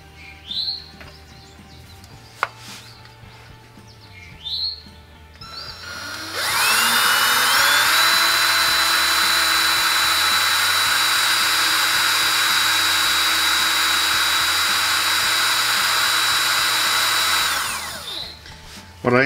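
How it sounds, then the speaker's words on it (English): A power drill with a 7/16 cobalt bit bores into steel on a vehicle's lower spring mount, giving a loud, steady whine with a rising tone that runs for about ten seconds before stopping, preceded by faint bird chirps. "But you can see it's already starting to drill."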